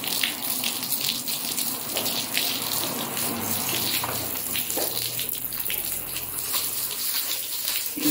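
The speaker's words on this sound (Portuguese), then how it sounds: "Vou colocar um pouquinho de água aqui." Water runs steadily from a tap while cleaning a large surface, a constant splashing gush that continues throughout with no voices.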